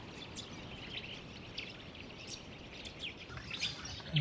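Birds chirping on Moreton Island, a scattering of faint, brief calls and tweets over a steady outdoor hiss, somewhat distant and quiet, with no one talking.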